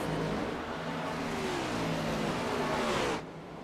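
Race car in an iRacing stock car game at Las Vegas passing on newer tires, a loud, steady engine roar with a slight pitch sweep that cuts off abruptly near the end.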